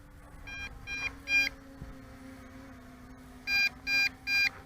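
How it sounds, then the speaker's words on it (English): An MJX Bugs 3 Pro GPS quadcopter sounds two sets of three bright electronic beeps, the sets a few seconds apart, over a quiet background hum. "So triple beeps repeatedly"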